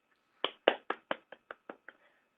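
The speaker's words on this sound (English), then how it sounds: "Lots of hands clapping." A short burst of hand clapping after a scientific talk, about eight distinct claps in an uneven rhythm that fades out, close and fairly quiet, like one or two people applauding rather than a crowd.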